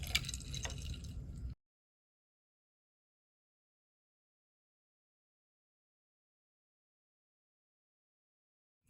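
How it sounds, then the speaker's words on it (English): A thermometer dropped into a container of ice water gives a short burst of wet, dripping splash that lasts about a second and a half, then cuts to silence. "let's drop it into the ice water and see what happens"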